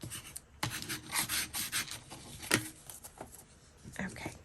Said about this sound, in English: gonna burnish that down